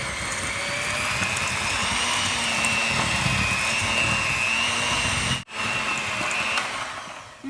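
Electric hand mixer with beaters creaming cookie dough, a steady loud whirring motor drone that holds for several seconds, cuts out briefly, then resumes.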